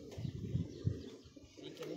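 Pigeons on a rooftop give several low, throaty coos in a steady rhythm, fairly close but soft, with no talking.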